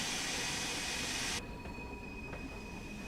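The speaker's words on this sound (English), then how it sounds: "the safety valve, which is what that loud static sounding you're hearing right now" Steam locomotive safety valve blowing off in Train Sim World 3 on the Peak Forest Railway, loud hissing rush of steam that cuts off abruptly about halfway through, leaving a quieter steady hiss and whine.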